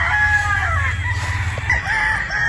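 A gamecock crows loudly and close at a game farm in Batangas, one long drawn-out call that falls off and rises again, with other fowl faintly clucking around it.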